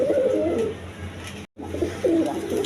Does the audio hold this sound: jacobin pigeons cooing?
yes